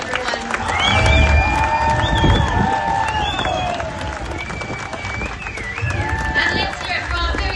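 A crowd aboard Royal Caribbean's Anthem of the Seas cheers and applauds the ship's captain and hotel director during a crossing-the-equator ceremony, loud and sustained with whistles and shouts over the clapping, while a voice talks through it.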